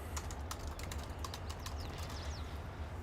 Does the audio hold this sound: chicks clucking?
no